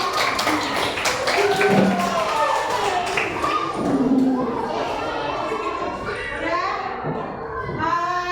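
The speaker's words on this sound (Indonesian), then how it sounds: "Oke, tepuk tangan untuk kelompok 2." A classroom of children applauds a student group after its presentation, with a burst of scattered claps mixed into lively overlapping children's chatter and voices that carry on throughout.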